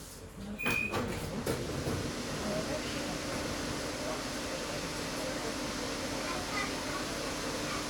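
The sliding doors of a Bucharest metro train close with a short clunk and thud, followed by the steady hum of the carriage, while an announcement voice speaks near the start.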